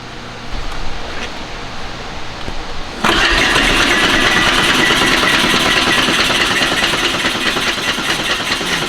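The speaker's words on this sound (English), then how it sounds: "It cranks way faster and way better than it did." A Porsche 964 engine cranks with a rapid, rough churning for about three seconds, then catches and settles into a loud, steady, busy running note.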